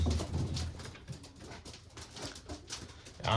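Pigeons in a dim breeding loft coo again and again in soft, throaty, overlapping calls, close by and moderately loud, with no talking.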